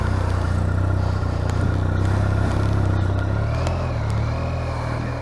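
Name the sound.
BMW R1250RT motorcycle pulling away in first gear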